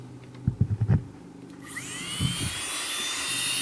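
A small high-pitched rotary drill bores a hole in an opal, starting after a few soft knocks and then whining steadily and fairly loud to the end.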